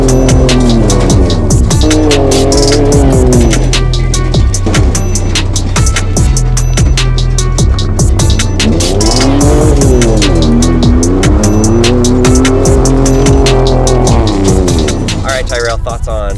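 A 2010 Tesla Roadster driven off-road, with a loud, close electric motor whine that rises and falls as it accelerates, plus tire noise and rough rattling, all continuous.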